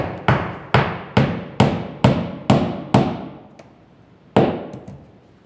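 Hammer blows driving nails through vinyl siding into a stud, about seven sharp, evenly spaced strikes close by, then a short pause and one final hit.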